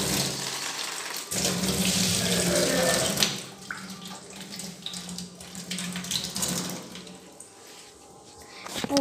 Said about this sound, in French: Et je rince le slime.